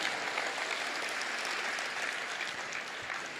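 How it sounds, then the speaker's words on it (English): A motivational seminar audience gives a round of applause, a dense, even wash of clapping that holds steady without a break. "Give Scott a round of applause"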